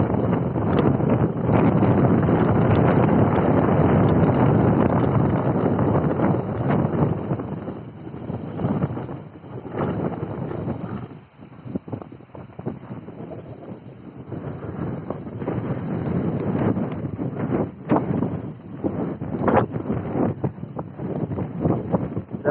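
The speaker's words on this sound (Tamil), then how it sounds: "காற்று நல்லா அடிக்குது ஃப்ரெண்ட்ஸ்." Strong wind on a lake bank buffets the microphone in loud, continuous gusts, roaring steadily and easing briefly before surging again.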